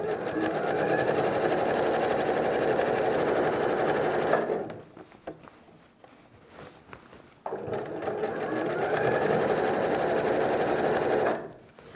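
A sewing machine stitches a fabric bread basket up to a marked spot, running steadily for several seconds, pausing briefly with small handling noises, then running again before stopping.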